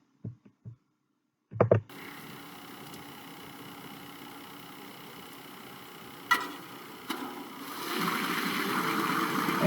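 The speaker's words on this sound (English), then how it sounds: "here you hear the boat engine starting up" A few faint knocks, then a boat engine catches and settles into a steady rumbling idle that grows louder and fuller toward the end.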